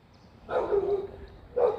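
A dog barks twice outdoors during a walk, a longer bark followed after a pause by a shorter one, moderately close and without any talking.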